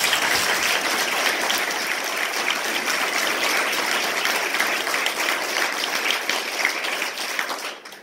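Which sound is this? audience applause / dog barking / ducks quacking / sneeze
audience applause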